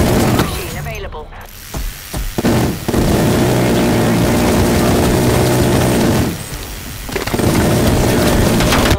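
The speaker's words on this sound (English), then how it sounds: "Hostile spy plane established overhead." Hostile spy plane passing overhead during a hardcore free-for-all match of Call of Duty on the Slums map: a loud, dense roar of engine noise that runs almost unbroken through the clip, briefly easing in places, with a game voice mixed in.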